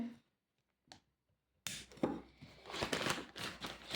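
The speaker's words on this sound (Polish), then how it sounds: "Ściągamy folię." Crinkly plastic crackles and rustles close by as protective film is stripped from a PS5, a few seconds of dense crackling after a brief earlier rustle.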